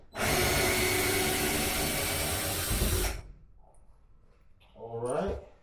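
Power tool backing out screws while unboxing a LEO PEV Rion Apex electric vehicle, a loud continuous whirring burst of about three seconds, followed by quieter handling noises and a brief voice.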